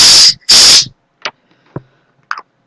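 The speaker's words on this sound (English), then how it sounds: "I'm going to spray it one more time because it's so loud." A Sentry pet behavior spray can lets out two loud, sharp bursts of hiss in quick succession, followed by faint, scattered small sounds.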